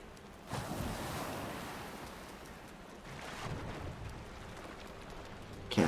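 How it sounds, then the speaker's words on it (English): Ocean waves in the video game Valheim wash and surge steadily with wind noise over them, swelling a little around the first and fourth seconds, with a brief sharper sound at the very end. "Maybe it's just the waves going super speed up and down."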